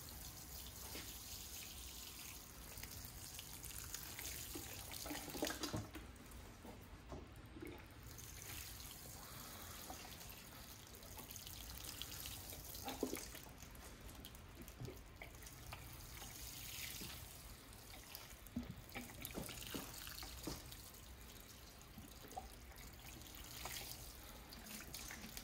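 Water is poured over microgreen trays in a continuous soft splashing and trickling, faint and steady throughout, with a few small drips and knocks.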